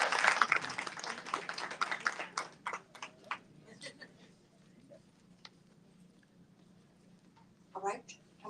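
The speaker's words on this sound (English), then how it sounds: "If we could give these panelists a round of applause" A crowd at a bookstore panel event applauds the panelists, a brief burst of clapping that quickly thins into scattered, fading claps, followed by a quiet stretch and a short voice near the end.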